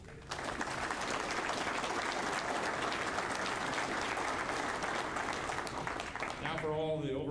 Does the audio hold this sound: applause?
yes